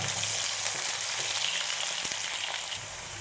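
Onions sizzle and fry steadily in a pan for a vegetable stew, a close, dense crackling hiss that holds even throughout and eases slightly at the end.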